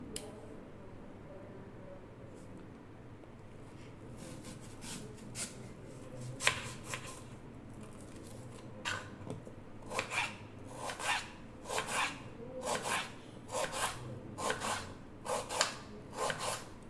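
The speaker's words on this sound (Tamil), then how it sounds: "ஒரு வெங்காயம் எடுத்தோம்ல, அதை கட் பண்ணி எடுத்துக்கலாம்." A knife chops through an onion on a cutting board in a home kitchen, starting as soft scattered taps and building into a steady run of close, crisp rhythmic cuts.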